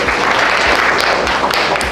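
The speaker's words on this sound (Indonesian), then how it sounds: "Berikan tepuk tangan dong untuk Britney" A classroom audience gives Britney a short round of applause, brisk clapping from a group that fills the brief moment loudly and evenly, with no voices.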